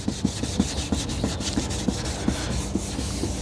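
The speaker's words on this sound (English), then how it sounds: "just scrub in a circular motion" A car headlight is scrubbed in circles with a Cerakote restoration wipe, a close, soft rubbing hiss with a regular rhythm of light strokes about three per second.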